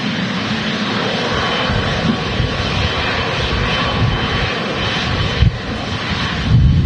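A Boeing 777 arriving at Manchester Airport on a windy day gives a steady, loud roar of jet engines that holds throughout, with broadband wind and rumble underneath and no voices.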